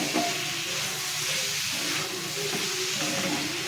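Green mango pieces sauté in melted jaggery in a hot pan, giving a steady, close hiss and sizzle that holds evenly throughout with no talking.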